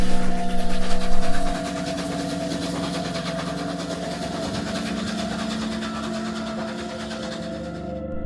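The Flying Scotsman steam locomotive runs with a steady rumbling drone and rhythmic chuffing, louder at the start and then settling into a constant mid-level roll.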